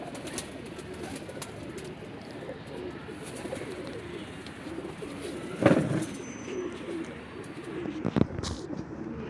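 Pigeons coo softly in low, repeated murmurs over a quiet outdoor background, with a few brief louder bumps near the end.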